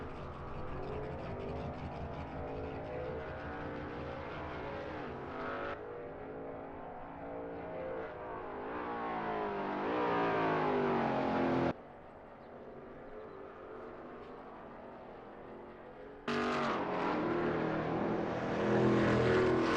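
A Veloce GTS-8 race car in a racing game runs a practice out lap at Watkins Glen Short, its engine droning and climbing in pitch, with sharp breaks at each gear change across the lap.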